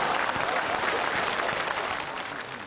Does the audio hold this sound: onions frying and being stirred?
no